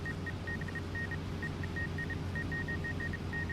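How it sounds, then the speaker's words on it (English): In Farming Simulator 25, a tractor's GPS guidance steering assist sounds an irregular series of short electronic beeps in uneven Morse-like bursts over a steady low engine rumble inside the cab. "So annoying, that beeping."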